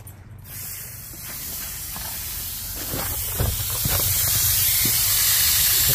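Water sprays hard from a cracked valve on a house waterline after the supply is turned back on, a loud steady hiss that builds over several seconds, with faint thuds of outdoor work in the background.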